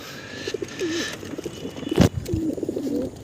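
Racing pigeons coo softly nearby in a few short warbling phrases during a release for a 2.5 km training toss, with a brief burst of flapping or bumping noise in the middle.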